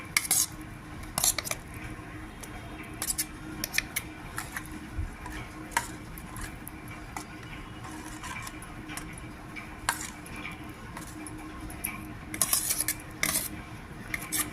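A spoon stirs onion pieces into tamarind soup, with steady scraping and clinking of metal against a pot, occasional sharper taps standing out in a quiet kitchen.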